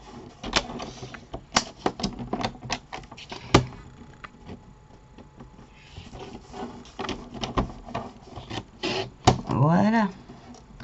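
A card is cut to size with a series of sharp clicks and snips close to the mic. Quiet gaps separate the cuts, a louder thud lands partway through, and a short scraping swish follows near the end.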